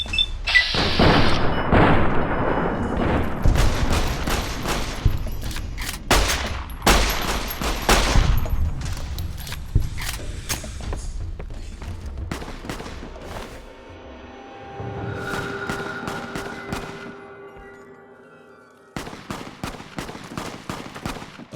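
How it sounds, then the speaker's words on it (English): Gunfire in the video game Fallout: New Vegas, loud close bursts of rapid shots and booming blasts packed together early on, thinning to scattered cracks before a later, quieter volley. "Somebody's still shooting."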